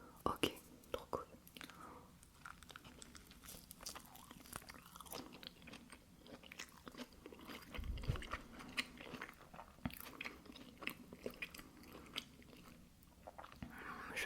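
Someone bites and chews a McDonald's McQuesadilla close to the microphone, with soft crunches and wet chewing between whispered speech.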